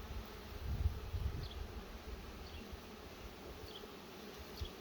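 Honey bees buzz softly around an open hive frame heavy with honey and brood, a faint steady hum with occasional closer passes and light handling rustle.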